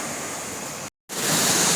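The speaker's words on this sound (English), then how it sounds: "we are in the center of the waterfall now" A waterfall inside a cave in Decorah, Iowa, gives a steady, close, broadband rushing roar, briefly cut to silence partway through before the roar returns.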